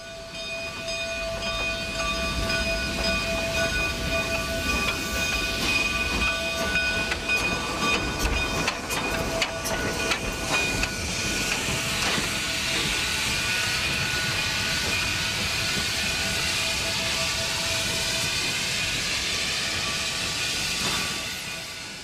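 A steam locomotive, number 473, a K-28 class 2-8-2, hauls a narrow gauge train, with a steady chuffing rumble, hissing steam, squealing wheels and rhythmic clatter continuing throughout, no voices.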